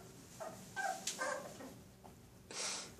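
Pit bull and her litter of puppies whimpering and yipping, with several short whines and a brief bark-like burst spread across a few seconds, fairly faint and close by, with no talk.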